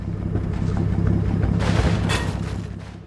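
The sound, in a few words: gunfire in Combat Mission video game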